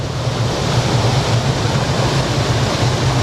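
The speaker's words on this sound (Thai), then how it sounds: "เอามือไปจุ่มน้ำตก" A clear waterfall pours into Wastwater lake in the Lake District, a loud, steady rushing roar of falling water heard close up without any voices.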